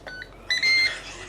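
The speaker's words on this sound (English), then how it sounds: "there's the famous Ninja noise" A Ninja cooker set to roast mode with chicken breasts inside gives a few short electronic beeps, then a longer bright tone, close and clear against a quiet kitchen.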